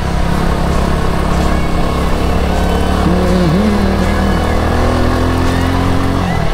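A motorcycle ridden along a road in Infanta, Quezon, its engine droning loudly and steadily under strong wind rush, with a voice briefly heard midway.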